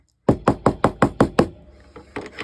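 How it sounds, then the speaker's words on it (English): A small hammer knocks seven times in a steady rhythm on the seams of a quilted fabric basket, each tap close and crisp, then a pause and a few lighter taps. "People always hear this knocking and wondering, what the heck am I doing over in the corner?"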